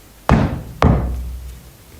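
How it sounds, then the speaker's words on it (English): Two sharp knocks on wood, about half a second apart, loud and close, each leaving a short ring in a quiet room of an old mansion during a ghost-hunting session. "Can you copy what I do by knocking?"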